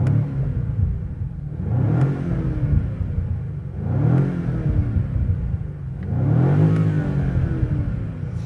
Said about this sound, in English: will also turn on the V8. We will be listening to the sound of that as well.